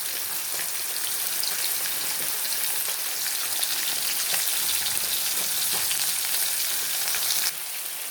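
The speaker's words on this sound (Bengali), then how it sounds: "কেটে রাখা আলুগুলো ভেজে নেব।" Cut potatoes fry in hot oil in a home kitchen pan, giving a steady, close, crackling sizzle with scattered pops and no voices.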